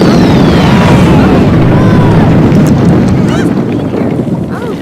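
Meteor impact in The Sims 3, a loud, dense rumbling blast that fills the whole clip, with crackling debris and a few high whistling tones over a steady roar that fades slightly at the end.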